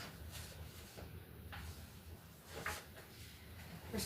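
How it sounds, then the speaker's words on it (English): Cabinet doors being fitted onto a flat-pack pantry cabinet during assembly, with a few soft knocks and clunks of wooden panels over steady room noise, close by and fairly quiet. "So now we're going to put the doors on."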